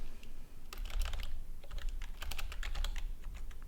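Fingers type a short listing title on a computer keyboard with quick, close clicks that come in two bursts separated by a brief pause, over a low steady background hum.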